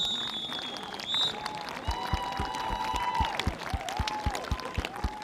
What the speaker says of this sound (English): a round of applause from all in attendance here